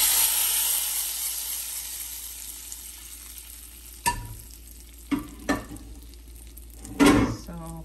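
Hot tempering poured into moringa leaf dal crackles in a few short, close bursts of sizzling, separated by quiet stretches of low kitchen hiss.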